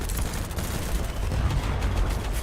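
Sustained, dense gunfire from the video game Battlebits crackles through a multiplayer firefight, with rapid overlapping shots rumbling continuously and fairly loud, no voices.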